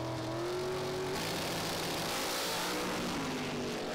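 Blue-and-white and yellow-and-black dragsters racing in a European drag racing semi-final heat, a loud continuous engine roar that fills the whole moment without a break.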